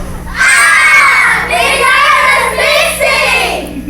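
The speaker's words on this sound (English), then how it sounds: "Her thoughts were interrupted by loud shouts and a commotion from the wedding party assembled outside." Loud shouting and excited commotion from a wedding party gathered outdoors, a crowd of raised voices and cheers sustained close by for several seconds.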